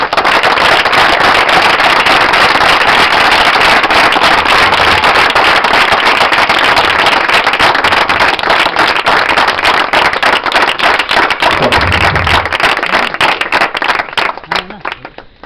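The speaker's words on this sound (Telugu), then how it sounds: "నమ్మిన వారు మాత్రమే చప్పట్లు కొట్టి దేవునికి మహిమపరచాలి" A church congregation claps hands fast and hard in dense continuous applause, loud and close, with a few voices underneath, before it thins and fades at the end.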